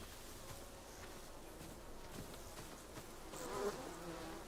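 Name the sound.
bees buzzing in a video game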